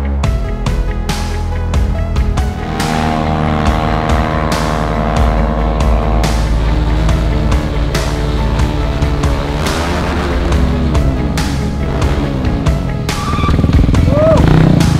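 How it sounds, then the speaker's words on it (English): Motorcycle engine revving hard on a race circuit, with rising and falling pitch as the rider lifts into a wheelie; a loud, sustained roar throughout, swelling toward the end, with no voices heard. "I never thought I'm gonna make a wheelie on the race circuit."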